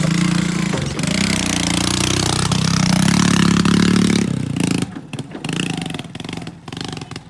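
A tractor engine runs steadily and loudly with a low rumbling drone, then the tone drops and turns rougher and more broken with clattering toward the end.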